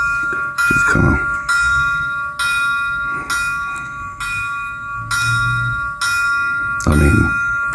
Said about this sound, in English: just turn the bell on